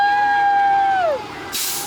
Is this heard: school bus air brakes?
yes